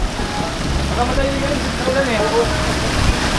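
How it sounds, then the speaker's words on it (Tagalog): Rain pours steadily outdoors during a typhoon near a parked jeepney home, a dense, loud hiss with faint tonal sounds drifting underneath. "So ito nga umulan na, pero okay lang kasi naligpit na namin yung mga electronics natin."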